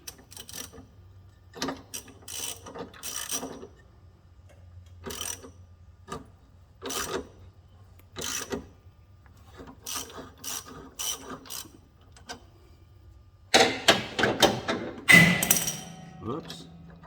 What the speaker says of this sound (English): We'll take our big wrench.